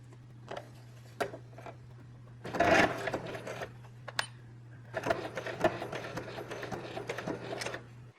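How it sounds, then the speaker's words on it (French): A sewing machine runs in short bursts and then a longer steady run as it stitches fabric 1 to 2 mm from a seam, under a constant low hum, close and clear with no talk. "Je couds à 1 voire 2 mm de ma couture."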